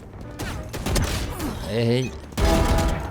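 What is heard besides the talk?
gunshots in a video game shooter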